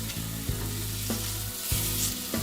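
Lamb steaks sizzle steadily in a frying pan just after being flipped, a broad continuous hiss with a few soft bumps and clatters along the way, with no talking.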